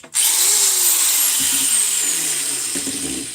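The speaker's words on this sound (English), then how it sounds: "I got some wood screws. I got a drill here." A power drill whines steadily at close range driving wood screws, its pitch sagging under load as screws bite in, with a couple of brief clunks near the end.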